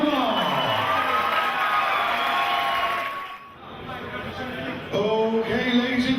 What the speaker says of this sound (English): Let's have a massive round of applause for both fighters.